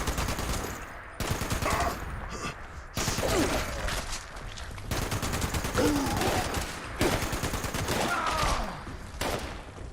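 Gunfire in Fallout 76, with repeated bursts of rapid automatic shots in several loud volleys separated by short pauses, close and dominant, with brief clicks and clatter between bursts.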